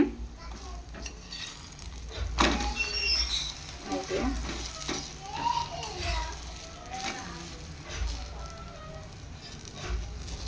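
Gola ruti batter with onion and egg frying in a pan at night, a steady soft sizzle running throughout beneath children's voices and background chatter.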